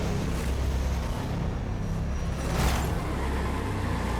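A 1965 Deberti C10 Slayer truck in Forza Horizon 5 drives off-road through the Baja, a steady loud engine drone with rough rumbling and a brief surge partway through, no talk.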